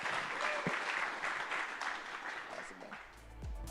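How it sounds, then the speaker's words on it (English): An audience at a crypto industry summit applauds comedian TJ Miller; dense, even clapping from a crowd, moderately distant, tapering briefly before a short thump near the end. "Everybody, round of applause for TJ Miller joining us today."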